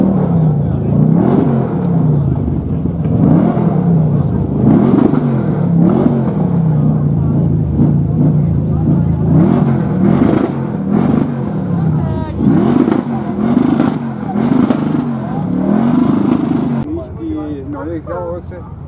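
A loud car engine idles and revs through its exhaust in repeated rising-and-falling bursts, close by and throaty, at an American car meet, with a voice speaking over it toward the end.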